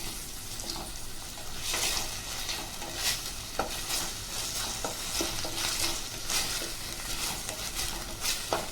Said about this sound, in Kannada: ಇವೆಲ್ಲವನ್ನು ಚೆನ್ನಾಗಿ ಮಿಕ್ಸ್ ಮಾಡ್ಕೊಳ್ಳಿ.